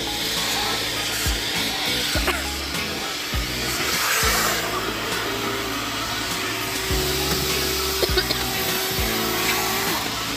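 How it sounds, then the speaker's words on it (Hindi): A car vacuum cleaner runs for a car clean-out, a loud, steady whining drone with occasional thumps and shifts in pitch as the nozzle moves. "गाड़ी वैक्यूम भी खुद ही करनी पड़ती है"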